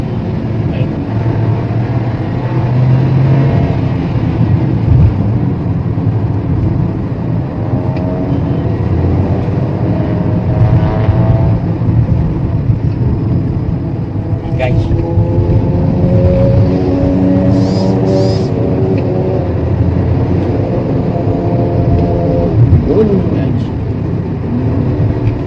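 Geely Coolray engine revs hard through its quad exhaust in second gear, a loud sustained drone rising and falling in pitch beneath someone talking over it throughout.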